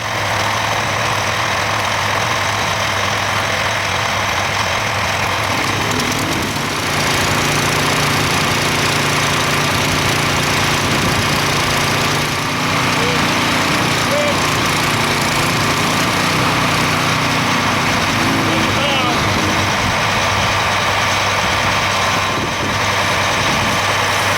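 A farm tractor engine idles steadily nearby during fueling at bean planting time, a continuous loud droning hum without change in pace and no voices over it.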